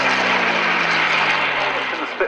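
Spitfire fighter's Rolls-Royce engine roaring steadily at an airshow, loud and continuous with a low droning hum, with a voice talking over it.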